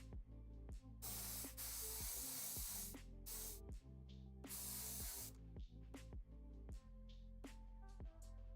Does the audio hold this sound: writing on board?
no